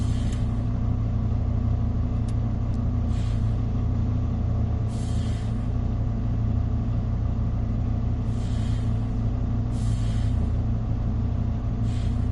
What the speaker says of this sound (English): those sounds like the brakes are like trying to release or something